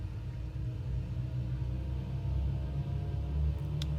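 A Douglas DC-3's piston engines build a steady, loud rumbling drone inside the cockpit as the throttle comes up for takeoff at Queenstown, holding a deep continuous roar without breaks.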